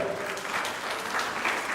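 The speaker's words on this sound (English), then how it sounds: "Give her a round of applause." Brief burst of applause from an audience at a municipal corporation local government lecture, steady and fairly loud for under two seconds with faint voices beneath.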